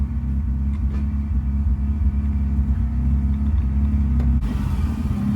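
A 1976 Mazda RX4's rotary engine runs steadily at idle, a loud, close, continuous low rumble with a slight rise in revs near the end, no talking.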